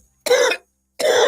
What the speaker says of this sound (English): Oh, that's a THCA cough.